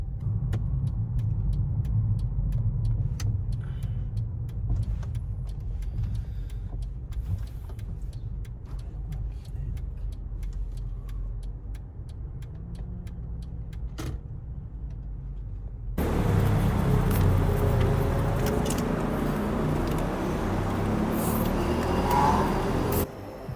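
Cars in a traffic jam on a Japanese road, heard as a steady low engine rumble and road noise from inside a vehicle that grows louder and brighter partway through.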